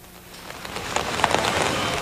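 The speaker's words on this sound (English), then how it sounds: "A rainy day in Georgia." Steady rain falls on a rainy day in Georgia, a dense, close hiss of drops on surfaces that swells slightly toward the end, with no voices.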